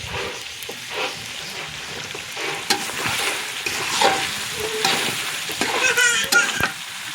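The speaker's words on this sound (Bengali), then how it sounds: "এই দেখেন আমি হচ্ছে রান্না করছি" Food frying in a pan crackles and sizzles steadily while a utensil scrapes and stirs in irregular bursts, heard close up, with faint voices in the background.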